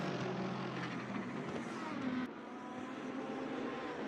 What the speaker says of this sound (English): Love that deep throaty engine.